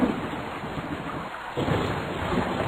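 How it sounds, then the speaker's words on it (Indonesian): Steady broadband rain with a storm-like rumble, played back from an educational video about how rain forms, filling the clip loudly and continuously with a brief dip in the middle. "Lalu turunlah hujan tersebut sampai ke bumi."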